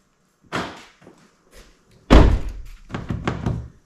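Locking the doors on a 2019 Hyundai car, whose key fob battery is low or dead, gives a few close mechanical clunks: a lighter click, then a heavy thunk followed by several quicker latch knocks.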